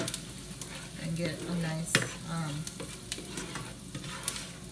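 Onions fry gently in a pan with a soft, steady sizzle while utensils clink and scrape now and then, and a quiet voice speaks briefly over it.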